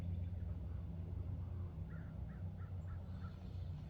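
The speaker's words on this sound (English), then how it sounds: "There's a crow." A crow caws about five times in a quick series, fairly distant, over a steady low outdoor rumble.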